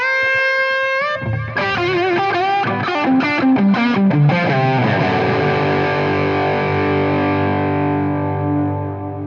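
Electric guitar through a Keeley Mk3 Driver overdrive pedal in RK germanium mode, a sustained chord followed by a run of picked notes and a ringing, slowly decaying chord, loud and alone with no talking.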